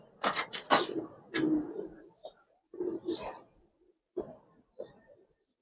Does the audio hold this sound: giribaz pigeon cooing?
yes